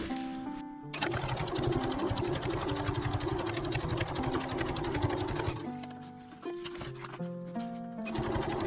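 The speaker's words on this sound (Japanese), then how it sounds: "ここ端ミシンかけてきました。" A sewing machine edge-stitches along a zipper pouch, running in a steady rapid whirring clatter that pauses briefly and then starts up again in shorter bursts.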